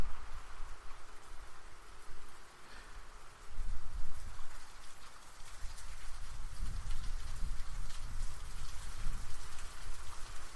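Rain falling outdoors, a steady wash of drops and patter with some low wind-like rumble swelling in places, moderately loud and continuous with no talk.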